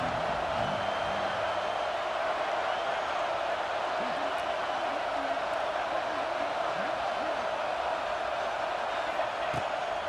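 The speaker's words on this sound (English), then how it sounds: "Big 3rd down as the crowd gets behind this defense." A stadium crowd in the EA Sports College Football 26 video game roars steadily behind the defense on a big third down, a dense, sustained wash of cheering noise that carries through the whole stretch with faint commentary underneath.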